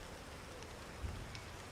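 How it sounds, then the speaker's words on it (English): Soft, continuous rainfall patters in the Fabledom video game, a faint even hiss with a slight low thump partway through, heard alone. "It's been so rainy."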